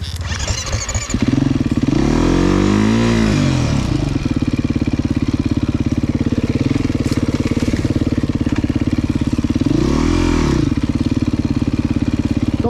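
An enduro motorcycle rides downhill off-road, its engine droning loudly and steadily throughout, with two rising-and-falling revving surges as the throttle is worked on the descent.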